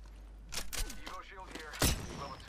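Gunfire bursts in an Apex Legends-style battle royale match, sharp cracks near 0.6, 0.8 and a louder shot around 1.8 seconds, heard under excited voices talking over the action.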